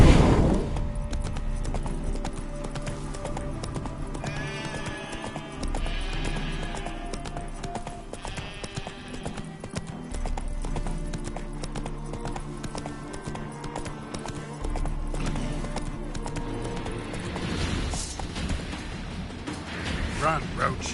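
Roach the horse galloping in The Witcher 3, rhythmic hoofbeats running steadily under game music, with someone briefly speaking at the start.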